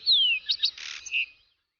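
A sparrow chirps alone in a quick run of high, bright tweets: a sliding call, two short chips, a buzzy burst, then a final note, close and clear with no talk.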